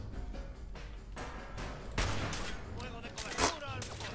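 Gunfire in the Fallout 4 video game: a string of loud bursts and rapid shots across a few seconds, with a sharp, prominent blast near the end, under a constant game background.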